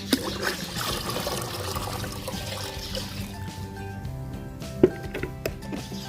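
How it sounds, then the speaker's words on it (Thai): Water trickles and splashes steadily as five liters are poured into a container for mixing a plant solution, a soft continuous pour with a few louder knocks near the end and no speech. "นี่ค่ะ น้ำห้าลิตรค่ะ เพื่อน ๆ ก็จะมาเทใส่เลยค่ะ"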